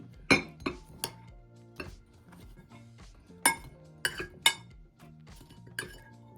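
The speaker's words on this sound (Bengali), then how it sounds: "আমি এখন একটা অন্য পাত্রে তুলে নিচ্ছি" Dishes and utensils clink sharply several times at irregular intervals as fried pointed gourd is moved to another bowl, close and crisp against a quiet kitchen background.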